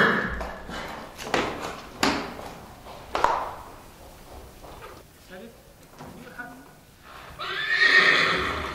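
An Arabian horse neighs loudly over clattering hoofbeats and knocking sounds, with a long whinny near the end and speech in the background, in Egypt.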